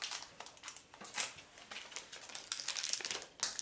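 A small plastic bag holding a Season 4 Shopkins toy crinkles and crackles as it is handled and opened, in irregular bursts of close, sharp rustling with no speech.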